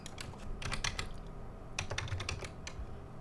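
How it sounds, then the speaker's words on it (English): Rapid keystrokes on a computer keyboard in two close bursts, clicky and fairly loud, with a steady low hum underneath and no talking. "maybe I should type the rest of it in."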